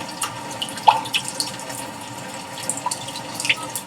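Rainy-day ambient soundscape from a 2020 Hyundai Sonata Limited infotainment system: steady patter of rain with scattered droplet plinks and drips, a continuous soft wash at moderate level with no talk.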